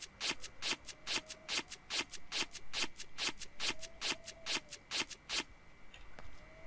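Items are ripped apart in the Project Zomboid video game, heard as a quick regular series of about twenty crisp tearing rasps, each short and sharp, close and fairly quiet with no talking.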